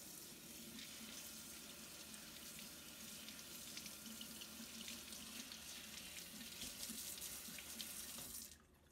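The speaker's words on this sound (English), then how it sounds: "now we're just going to wash the excess off the outside" Water runs steadily from a sink tap, washing excess off the outside of a container during lab-style peptide preparation, a constant close splashing rush that cuts off abruptly near the end.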